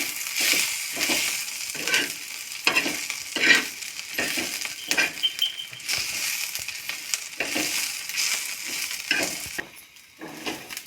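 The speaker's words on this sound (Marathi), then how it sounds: "मिरची भाजून घेते मम्मी आता" Dry red chilies roast in a pan while being stirred, producing rhythmic scraping, rustling strokes and light sizzling in repeated close bursts, with occasional clinks of utensil against the pan.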